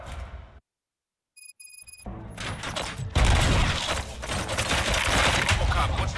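Bursts of gunfire from the video game RoboCop: Rogue City follow a brief silence and a few electronic beeps, then grow into dense, loud, continuous shooting with booming impacts over several seconds.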